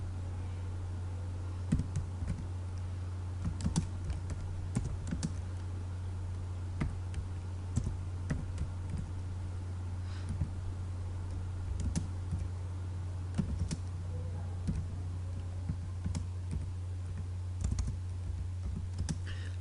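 Typing on a computer keyboard, with irregular bursts of soft key clicks and taps over a steady low electrical hum, fairly quiet and close, with no talking.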